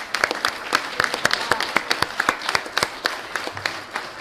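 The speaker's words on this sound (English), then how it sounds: "Let's give them a big round of applause." Applause at a city council meeting for students and teachers, a handful of people clapping in a loose, irregular rhythm with sharp distinct claps, moderately close.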